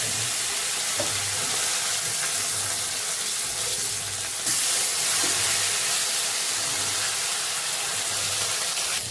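Koi fish frying in hot oil, giving a loud, steady, close sizzle and hiss with no pauses, brightening slightly about halfway through.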